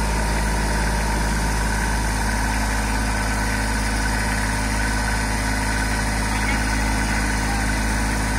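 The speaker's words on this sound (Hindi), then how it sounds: "और चल रही है ट्रैक्टर।" A Kubota 2441 tractor engine running steadily under full load, a constant loud diesel drone with strong low rumble and vibration, unbroken throughout.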